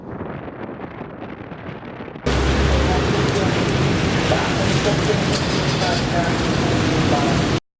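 Heavy tropical rain pours down in Phnom Penh during the Cambodian rainy season, a dense, steady wash of loud broadband noise that jumps sharply louder partway through and then stays constant.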